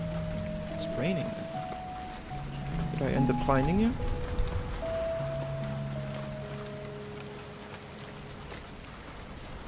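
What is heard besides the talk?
rain falling in a video game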